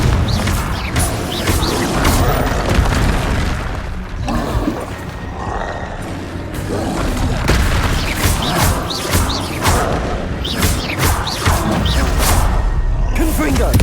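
Confringo blasting spell detonating in the wizarding game Hogwarts Legacy, a string of loud close booms and crashing impacts over continuous combat clatter and whooshes, with voices breaking in.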